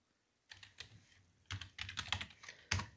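Keys clatter on a computer keyboard as commands are typed into MS-DOS, a few quick close taps followed by a faster irregular run of keystrokes, faint and without talk.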